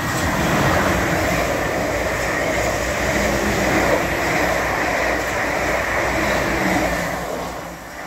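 A train pulls into Shawford station, producing a broad, steady rumble that stays loud and close before easing slightly at the end, with no talk.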